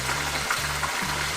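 Speared fish fries in hot oil, giving a close, continuous hiss and crackle of sizzling with short dips in the low rumble.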